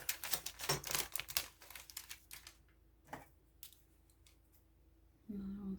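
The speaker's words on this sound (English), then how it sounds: "Scissors." Scissors snip through paper while a junk journal is being made, several quick crisp cuts bunched in a burst, then a lone snip and quiet, followed by a soft thud and a handling noise near the end.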